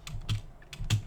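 Typing on a rubber dome computer keyboard with an unusually clicky feel: a few quick, crisp keystrokes in two small bursts, close up, with no talk.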